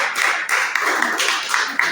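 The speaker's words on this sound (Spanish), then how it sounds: "Denle un aplauso al Señor." A church congregation claps in praise to the Lord. The applause comes as a short run of close, sharp, rhythmic claps that stay loud and even.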